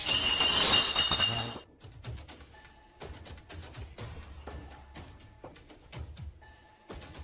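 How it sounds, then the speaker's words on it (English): Glass clinks and metallic clanking ring out in a dark house at night, opening with a loud dense burst and then giving way to scattered sharp taps and knocks over quiet. "Terrifying clinking and clanking bursts through the darkness."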